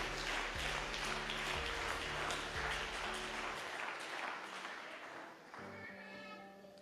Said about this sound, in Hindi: जोरदार ताली प्रभु की महिमा के लिए।